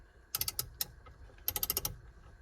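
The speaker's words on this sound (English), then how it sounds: "now you want to grab your 19mm socket so you can take this nut off" A 19mm socket wrench ratcheting on the steering wheel nut of a Nissan 370Z, two quick bursts of crisp clicks close by with a short pause between.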